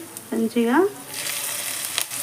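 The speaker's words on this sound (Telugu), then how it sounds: "ఇప్పుడు మనం ఇందులోకి తాలింపు వేసేస్తాం" Hot oil tempering with garlic, dried red chillies, curry leaves, mustard and cumin seeds for gongura pickle, a steady close sizzle that rises after a brief spoken word and continues with faint crackles.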